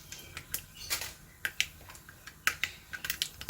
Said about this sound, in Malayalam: അത് പൊട്ടി വന്നിട്ടുണ്ട് കടുക്.